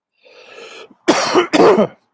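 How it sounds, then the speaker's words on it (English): A short rasping throat sound, then two loud, close coughs in quick succession. "I always cough. I'm a cougher."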